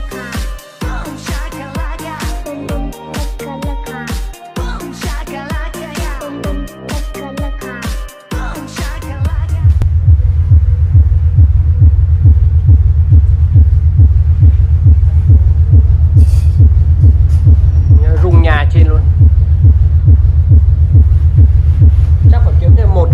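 A new 5-tấc (50 cm) subwoofer playing a bass test: a busy thumping track at first, then a loud, steady pulsing low-frequency throb with faint voices in the background.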